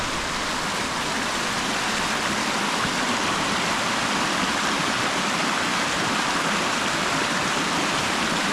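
Steady rushing water flows continuously and loudly, a dense unbroken wash of stream noise with no voices, on a walk near Birchover.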